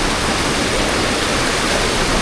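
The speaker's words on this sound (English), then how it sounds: "I know this waterfall." A waterfall in Pai, Thailand roars as a steady, loud broadband rush of falling water, continuous and close throughout with no voices over it.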